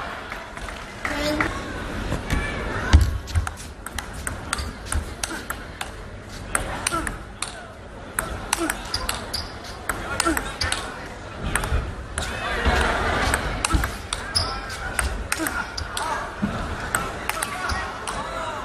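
Table tennis rally between Ma Long and Vladimir Samsonov, with rapid, irregular ball pings and paddle hits through a long counter-looping exchange, under a commentator's talk and low arena crowd noise.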